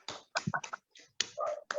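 Several people on a video call clap briefly: a few scattered, uneven claps and snaps in short clusters with gaps of silence between, thin and compressed as if through laptop microphones.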